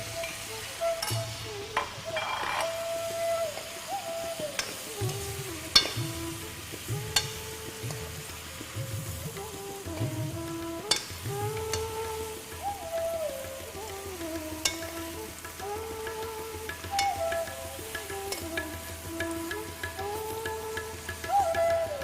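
Cauliflower cooking in a pan for aloo gobi, a gentle sizzle under repeated stirring and scraping of a utensil against the pan, with occasional sharper clinks, close and moderately quiet.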